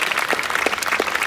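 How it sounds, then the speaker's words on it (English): An audience at an IMAX screening of Speed Racer claps steadily, a dense, loud wash of many hands with no break. "A big round of applause for Steam Whistle"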